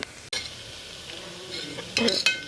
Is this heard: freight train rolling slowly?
no